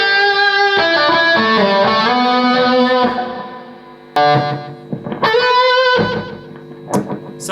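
A synth lead run through a long delay effect plays sustained bright distorted notes whose repeats trail and overlap, with gaps and a few sharp restarts, loud and without speech.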